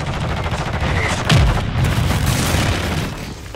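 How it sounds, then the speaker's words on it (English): Precision airstrike explosions rock a video game battlefield: one sharp, loud boom lands midway through a steady wash of gunfire and rumbling combat noise. "Precision airstrike inbound."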